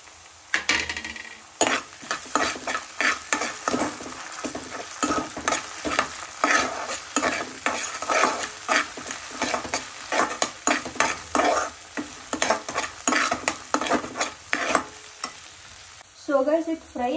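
Ginger garlic paste sizzles in a hot pan while a spoon scrapes and stirs it in quick, repeated strokes, loud and close, with a clink of utensils near the end.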